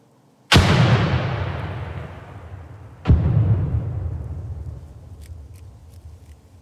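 Two frag grenade blasts in the America's Army 3 game, each a sharp loud boom with a long rumbling decay, the second following about two and a half seconds after the first.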